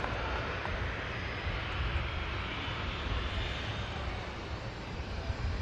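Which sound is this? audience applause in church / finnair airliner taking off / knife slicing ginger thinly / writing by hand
finnair airliner taking off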